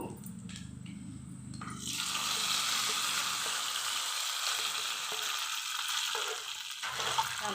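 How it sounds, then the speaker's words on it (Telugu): A tempering of red chillies and curry leaves sizzles in hot oil for tamarind-leaf dal. The hiss bursts up loudly after a short quiet start, then crackles on steadily with no talking. "స్టవ్ ఆపేస్తున్నాను పప్పులో చేసుకుందాం పోపు"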